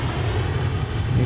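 An aircraft engine pod drags along the floor beneath a moving plane, heard as a loud, steady rumbling drone that holds unbroken throughout.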